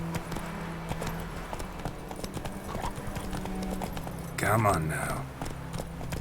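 Roach, a horse in the Witcher 3 video game, clip-clops along at a steady walking rhythm under game ambience, with a brief whinny near the end; someone speaks once.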